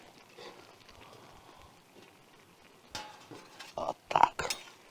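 Lamb served from a cauldron onto a plate over an open fire: quiet outdoor ambience, then a few sharp metallic clinks and scrapes of a utensil against cookware and plate near the end.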